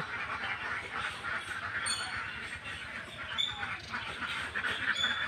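Khaki Campbell ducks on a farm, a flock quacking and squawking continuously at close range amid a busy outdoor din, no speech.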